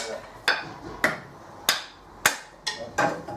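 Kindling being chopped for a wood fire on a cold morning: about six sharp, close wooden strikes at a steady rhythm, each ringing briefly before the next blow.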